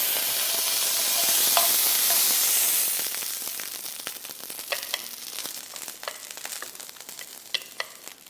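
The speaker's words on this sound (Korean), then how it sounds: "이렇게 해서 고사리 볶아줍니다" Bracken fern (gosari) stir-fried in a pan for bibimbap, a loud hissing sizzle that settles into a quieter crackle with scattered ticks and scrapes from stirring.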